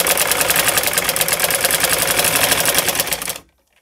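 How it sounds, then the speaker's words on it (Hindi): A sewing machine stitches cloth in a loud, rapid, even mechanical chatter at close range for about three seconds, then stops abruptly into silence. "अब हम यहाँ सिलाई लगाएंगे"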